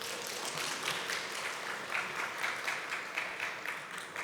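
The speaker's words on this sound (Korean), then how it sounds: "사랑과 격려의 박수로 인사 나누겠습니다." Congregation applause during a special early-morning Holy Week prayer service in a church, a soft, steady patter of many hands clapping together, fairly distant and even throughout, with no talk over it.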